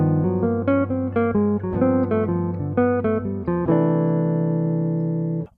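A jazz guitar plays a varied two-five line of crisp, clearly picked single notes, then settles onto a long ringing chord that fades out, solo instrument heard up close.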